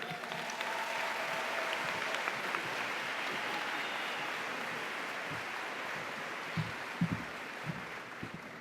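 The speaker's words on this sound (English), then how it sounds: "round of applause for the mayor, Mayor Ginther, and all of the districts" Steady, sustained applause from a large school convocation audience honoring the mayor, a dense even patter that runs on without pause, with a few louder thumps near the end.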